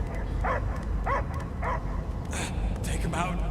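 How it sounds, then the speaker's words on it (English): Dog barks and yips sound in a Guardians of the Galaxy video game, several short barks and whimpers heard under music and spoken dialogue. "I hear only barking"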